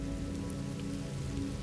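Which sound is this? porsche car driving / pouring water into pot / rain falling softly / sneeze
rain falling softly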